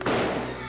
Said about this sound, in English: We got one take of the gunshot.